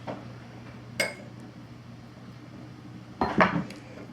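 Breadcrumbs, butter and parsley being mixed in a pan, with a couple of clinking utensil strikes against the cookware, one near the start and a busier cluster near the end, over quiet background.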